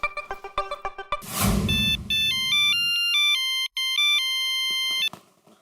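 A phone's electronic ringtone plays loud and close as a call is placed, a repeating melodic pattern of bright tones after a short run of plucked notes and a brief noisy burst.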